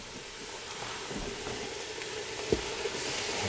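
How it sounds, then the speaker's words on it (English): Fried rice dressed with soy sauce sizzles steadily on a hot hibachi griddle while a utensil stirs through it. A brief scrape or clink stands out near the end. "We just want to stir it up"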